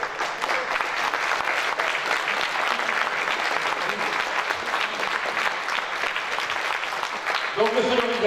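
An audience at a Telethon charity show applauds steadily for several seconds, a dense, even wash of clapping from a crowd, with voices briefly audible near the end.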